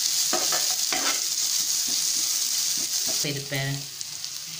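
Bread upma ingredients sauté and get stirred in a pan, a steady sizzle with scraping stirs running throughout while a voice speaks briefly over it near the end.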